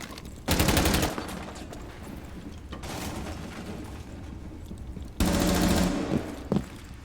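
Rapid automatic gunfire in a shooter video game, two loud sustained bursts separated by quieter clatter and a few lighter shots, close and dominant with no talk.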